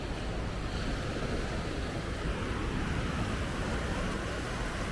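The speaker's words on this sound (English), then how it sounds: "This is that ocean." Ocean surf at Bocagrande beach in Cartagena, Colombia, rolls in as a steady, dense wash of broadband noise with wind buffeting the microphone, continuous and without talk.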